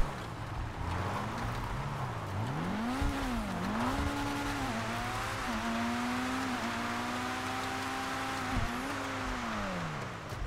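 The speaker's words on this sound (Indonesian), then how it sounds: "suara knalpotnya kalau kita lihat suara top speed nih" Aston Martin DB1 in GTA V screaming at top speed, a sustained, loud exhaust drone whose pitch rises and dips with gear changes and revs, steady throughout with no one talking.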